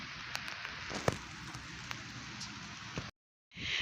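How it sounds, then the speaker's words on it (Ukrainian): Rain falling on a spring garden bed in March, a steady soft hiss of drops with a few louder taps, continuous for about three seconds before a brief cut, then resuming. "Зараз пішов дощ, ось такий він."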